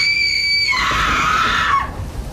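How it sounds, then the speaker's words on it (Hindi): A woman lets out one loud, drawn-out scream of pain lasting about two seconds, rising shrill and then breaking and falling away at the end, staged as a story sound effect. "यह चीख इतनी दर्द भरी थी कि हर सुनने वाले की रूह कांप जाती।"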